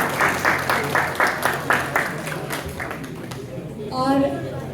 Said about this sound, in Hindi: जोरदार ताली राहुल जी के लिए